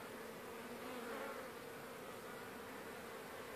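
Honeybees fly in and out at the upper entrance of a hive during their first spring flight in March, making a faint, continuous buzzing drone with no voices.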